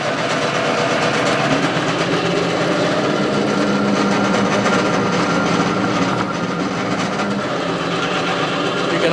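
A Falex oil test machine runs under load with a torque wrench attached, giving a steady dense mechanical whirring and grinding with a fine rapid rattle, close and continuous throughout.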